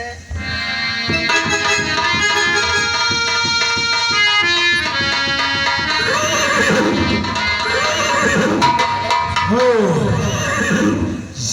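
Horse neighing repeatedly in a Ramlila stage performance of the Lav Kush story, loud and close, with long whinnies over tonal background music and light hoof clip-clop, no talk.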